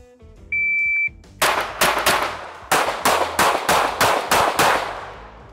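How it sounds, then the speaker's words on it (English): Rapid string of sharp gunshots from a Shadow Systems CR920P pistol fired at close quarters, about ten reports in quick succession, loud and close, preceded by a brief electronic beep. "I'll shoot the CR920P and see if that's the case"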